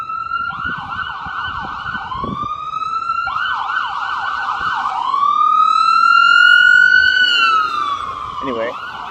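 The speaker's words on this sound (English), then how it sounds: "let's wait for this siren to pass." An emergency vehicle siren passes on a city street, loud and close, its wailing pitch sweeping up and down repeatedly and then settling into a long rising and falling tone over traffic rumble.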